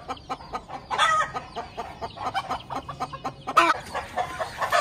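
Hens cluck and squawk close by in a domestic coop, choppy bursts of clucking that swell into a louder flurry near the end, with no voices.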